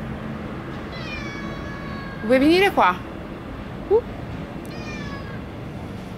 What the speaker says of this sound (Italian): Infatti stai miagolando.